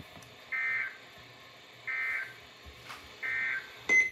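An Emergency Alert System tone sounds in three separate steady electronic beeps, evenly spaced and fairly faint, over a quiet background with a short sharp blip at the end.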